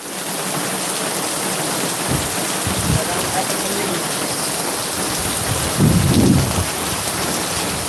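A thunderstorm in Banaskantha, Gujarat: heavy rain hisses loudly and steadily while low thunder rumbles roll in twice, one near the start and a longer one later.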